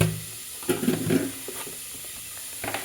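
Sizzling and stirring of onion and tomato frying in a pan for village-style methi bath, a steady soft hiss with a few louder scraping bursts, no talking.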